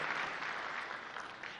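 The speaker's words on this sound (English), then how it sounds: "Let's give him a proper clap for that." Audience applause at an outdoor political public participation rally in Eldoret, a steady broadband wash of clapping that holds evenly and alone for a short stretch.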